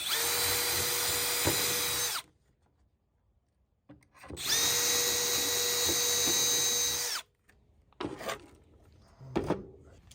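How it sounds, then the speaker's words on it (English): Two long bursts of a power drill boring holes for a drawer pull, each a steady high whine lasting about three seconds, followed by a few scraping handling noises. "So I got the appropriate size drill bit right there. Drill a couple holes"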